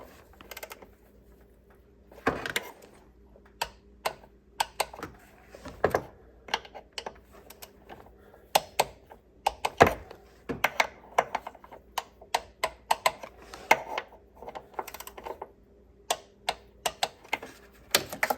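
A wrench tightens bolts in a crisscross pattern to torque spec on a Ford F-150 engine, giving a long run of sharp, close ratcheting clicks and ticks in irregular bursts over a quiet background.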